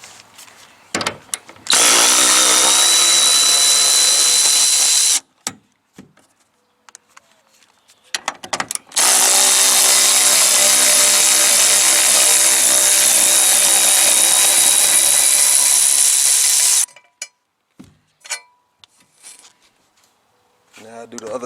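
A power tool, likely an impact driver or drill, removes the bolts holding a car seat to the floor, two per side, in loud sustained bursts of several seconds separated by short pauses.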